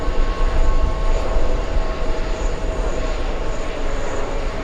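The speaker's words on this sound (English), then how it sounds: "we do have two 747 cargo planes. They're landing on the other side of the airport." Two Boeing 747 cargo planes landing on runway 13 left across the airport, heard as a steady, broad jet roar from a distance, rumbling continuously without a break and with no voices.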